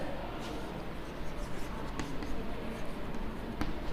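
Marker or chalk scratches across a classroom board in quick strokes, a steady scraping texture with a few sharper taps, close and moderately loud over a roomy background.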